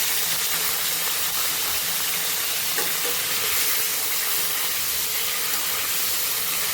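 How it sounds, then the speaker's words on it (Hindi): Soya chaap frying until crunchy in a little oil in a hot kadai: a loud, continuous sizzling hiss with fine crackles, steady and close throughout, with one faint knock midway and no talking. "अब हम डालेंगे उसके अंदर 2 चम्मच तेल और इसे हमें क्रंची करके भूनना है।"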